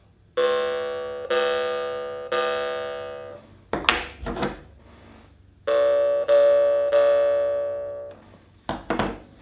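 A jaw harp sounds several sustained, bell-like ringing tones that slowly fade, separated by short twangy plucks and knocks.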